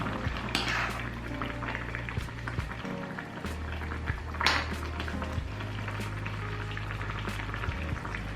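A pot of vegan kimchi stew with rice cakes boils steadily with dense bubbling and popping, under a constant low hum with small clinks and splashes.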